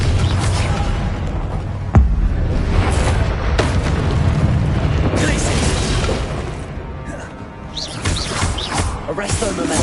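Confringo explosion spells in the Hogwarts video game, loud booming blasts with sharp cracks repeating over a dense, continuous battle din of rumbling effects.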